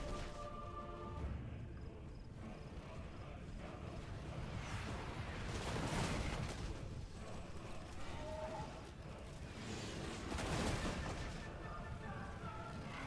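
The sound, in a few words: crossbows opening fire in Total War: Warhammer 2 video game battle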